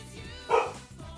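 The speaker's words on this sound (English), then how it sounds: "Why are my dogs barking?" A dog barks once, close and sharp, partway through, framed by quiet indoor room tone and faint background sounds; a single brief yip-like bark rather than a sustained bout.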